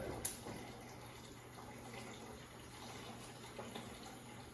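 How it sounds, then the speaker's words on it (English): Kitchen pot filler tap running water into a pot, a quiet, steady rushing flow that continues evenly throughout with a brief clink near the start. "I'm gonna fill it up a little bit more with this pot filler."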